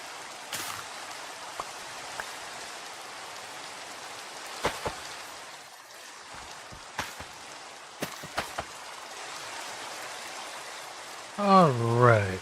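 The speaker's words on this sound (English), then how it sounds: "A nice little rainstorm." Rainstorm in the survival video game Snapshot Survival: a soft, steady hiss of rain with scattered sharp drip-like ticks throughout, and a voice briefly speaking near the end.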